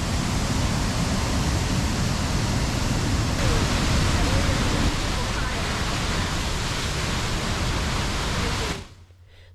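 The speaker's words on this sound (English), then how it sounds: "The main attraction here is undoubtedly Desoto Falls, the 107-foot waterfall." Desoto Falls, a 107-foot waterfall in Fort Payne, Alabama, roars as a loud, steady broadband rush of falling water that holds constant before abruptly dropping away at the very end.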